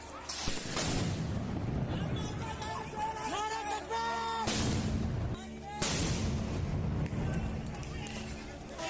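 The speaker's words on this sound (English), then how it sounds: "They are firing into the campus." Police fire tear gas shells into a university campus during a clash, with sharp booming blasts rising over a crowd's shouting and babble, with people talking and yelling throughout.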